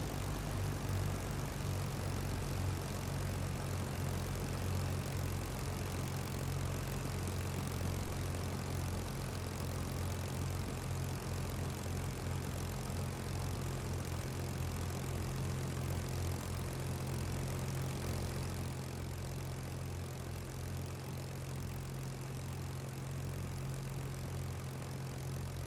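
Supermarine Spitfire piston engine idling while the aircraft taxis, in a flight simulator: a steady, low propeller drone that holds evenly throughout, close and continuous, with no talk.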